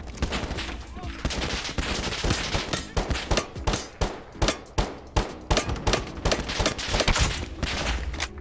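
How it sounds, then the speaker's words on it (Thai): Shotgun gunfire in the video game Lost Light, a loud rapid series of blasts and shots in close succession with a rhythmic burst of repeated reports in the middle, dense and continuous throughout. "มีคนยิงวะแย่แล้วผม นี่เป็นลูกซอง"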